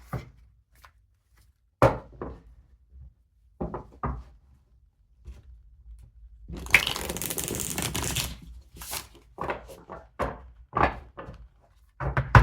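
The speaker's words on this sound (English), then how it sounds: "Feel free to fast forward through the shuffling if you want." Tarot cards are handled and shuffled, giving sharp taps and snaps, then a few seconds of dense riffling and more scattered card slaps, close and alone in a quiet room.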